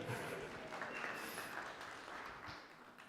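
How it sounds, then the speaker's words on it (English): A church congregation at a Sunday service applauds, a faint, dense wash of clapping that gradually fades over a few seconds. "This is a chance for us to applaud"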